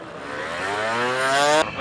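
A Honda NSR motorcycle accelerating hard at a gymkhana event, its engine note climbing steadily in pitch as the throttle opens, loud and close, before cutting off abruptly.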